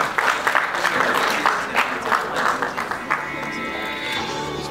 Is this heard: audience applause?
yes